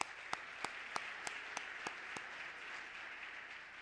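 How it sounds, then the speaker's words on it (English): Audience applause at an awards evening gala, a steady wash of clapping from a large crowd with several sharper claps standing out early on, continuing evenly without any voices. "How about a round of applause for BEYA there?"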